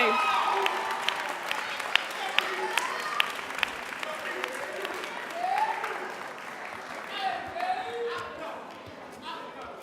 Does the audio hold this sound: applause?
yes